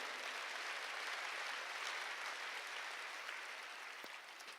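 Steady applause from a congregation during a Korean church sermon, heard faint and distant as an even wash of clapping that eases off slightly near the end.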